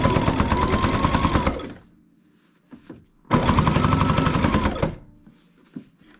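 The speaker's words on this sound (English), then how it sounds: "And continue sewing." A Baby Lock Jazz II sewing machine stitches quilt binding in two loud, fast bursts of a couple of seconds each, with soft handling noises in the pauses.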